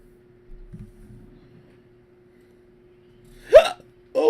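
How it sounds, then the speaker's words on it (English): A person hiccups sharply once, loud and close, followed moments later by a second abrupt vocal burst, after a quiet stretch with a faint soft murmur early on. "I hiccuped and I burped."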